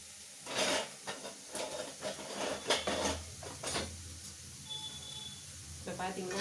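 Chopped onion and curry leaves sizzle in a pan while sautéing, a soft hiss running under someone speaking, with occasional clinks of a utensil against the pan.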